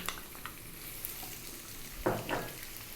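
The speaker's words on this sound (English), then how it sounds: "To that, we're then going to add 1 cup of onion," Onion sizzles in hot oil infused with spices, a soft steady frying hiss with a short burst of louder crackle and scraping as it is stirred.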